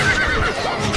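A horse in the game Stronghold Crusader whinnies with a wavering, rising and falling call, close and fairly loud over a low rumbling background.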